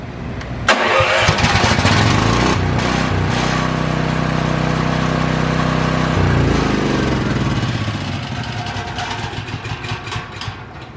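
A Vulcan Outlaw 195 small engine cranks, catches and runs with a loud steady drone for several seconds, then settles into a rougher, uneven idle.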